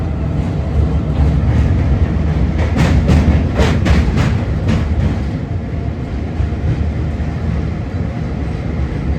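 The Seshadri Express passenger train, No. 17210, runs steadily from inside the coach with a dense, continuous rumble. Rhythmic clickety-clack wheel beats come through the middle stretch of the run.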